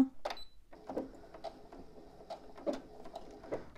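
A sewing machine runs a short seam across a zip on a fabric pouch, giving faint, quiet bursts of mechanical stitching clatter with brief pauses between them.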